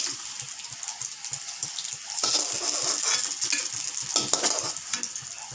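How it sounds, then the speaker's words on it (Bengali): Potato pieces fry in oil in a pan while preparing jackfruit-seed dumplings, a dense continuous sizzle that swells louder midway, with faint knocks of utensils underneath. "এই আলুটা তেলের মধ্যে ভেজে নেব"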